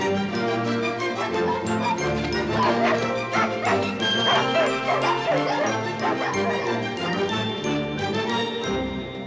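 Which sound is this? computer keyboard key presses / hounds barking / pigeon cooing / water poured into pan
hounds barking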